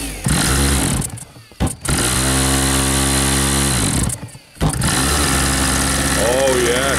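Nitro glow engine of an RC Cessna 177 Mini Cardinal model plane running loud and steady at a maiden-flight field, with brief cutoffs and people talking over the buzzing roar.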